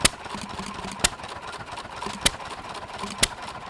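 A throttling-governor stationary engine runs at a low idle, a steady soft chug broken by four sharp, distinct pops spaced about a second apart.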